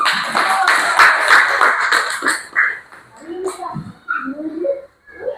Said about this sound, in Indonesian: Tepuk tangan untuk Raul.